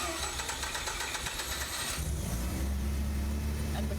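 A Mazda RX8 rotary engine cranks and fires after an eccentric shaft position sensor replacement, settling into a loud, slightly rough idle close by.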